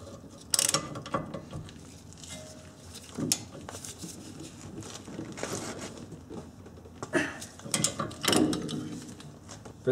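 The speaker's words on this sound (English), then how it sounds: "Make sure you get the bolts good and snug with a half-inch drive ratchet." Half-inch drive ratchet snugging the caliper bracket bolts on a 1990-1997 Honda Accord during a brake job, giving bursts of close mechanical clicking and clatter spread irregularly over the stretch.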